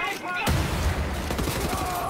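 A grenade blast and bursts of gunfire in the first-person shooter Wolfenstein: The New Order, with a sudden loud boom followed by rapid crackling shots under a voice.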